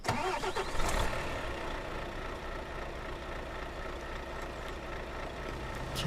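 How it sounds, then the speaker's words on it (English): A Peterbilt truck engine in Euro Truck Simulator 2 cranks and catches with a loud burst, then settles into a steady, rumbling idle that runs on close and alone. "Let's start up our engine."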